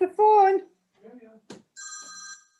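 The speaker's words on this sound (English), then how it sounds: "Bill, that's the phone." A telephone rings once with a brief, bright electronic trill, heard right after a short stretch of talk in a quiet room.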